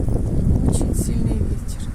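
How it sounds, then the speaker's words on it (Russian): Strong gusty wind on a sunny February day outdoors, a loud continuous buffeting roar against the microphone with no speech. "Солнышко есть, но очень большой ветер."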